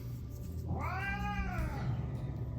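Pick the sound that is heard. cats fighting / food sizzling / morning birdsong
cats fighting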